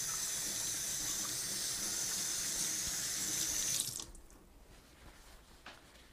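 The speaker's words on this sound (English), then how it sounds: "So let me go and wash my hands," A sink tap runs loudly as hands are washed under it, a steady rushing stream for several seconds before it shuts off, leaving faint drips and quiet room sound.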